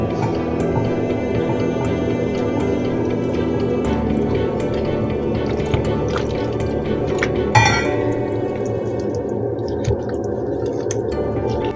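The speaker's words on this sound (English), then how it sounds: "After adding the soup mix, it is very important to stir well." Ox bone soup with added soup mix is stirred in a pot, giving wet sloshing and dripping sounds with occasional utensil knocks against the pot, close and steady.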